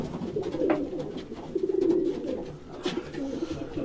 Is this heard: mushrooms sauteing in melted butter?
no